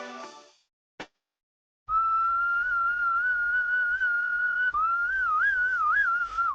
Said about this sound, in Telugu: ఏంటి ఈలేసి పిలుస్తున్నావు?